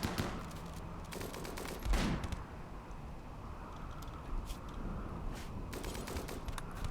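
Gunfire in the video game Rimworld, scattered bursts of shots crackling at moderate loudness over a steady background, with no talking during the exchange.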